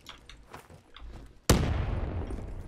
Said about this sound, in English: Just throw a grenade at them.